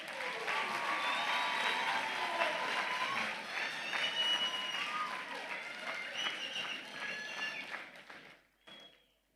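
Ceremony audience giving a round of applause, a sustained wash of clapping at moderate distance that thins and fades out near the end, with a few voices mixed in.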